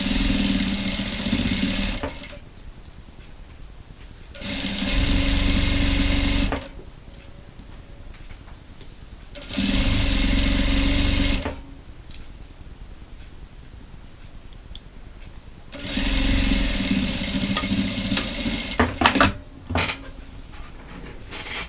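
A sewing machine stitches the last seam of a dish towel in three separate loud, close bursts of whirring, with quieter handling and rustling in between.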